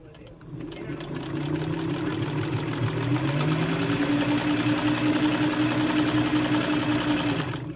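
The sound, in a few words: Kenmore 95 sewing machine stitching in reverse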